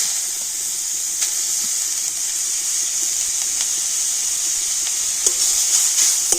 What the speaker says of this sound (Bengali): আর এবার আমি ওই ঘিয়ের মধ্যে দিয়ে দেব গ্রেট করে রাখা গাজরটা।